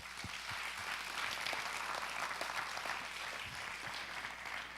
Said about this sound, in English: I want you to clap right now for me.